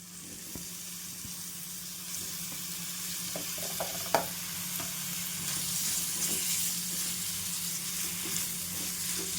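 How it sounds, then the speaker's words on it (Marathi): Spinach masala for palak paneer frying in oil, a steady close sizzle with occasional stirring clicks and scrapes, no voices. "याला आपण थोडं फ्राय करू आता तेलामध्ये थोडं परतून घेऊत आपण"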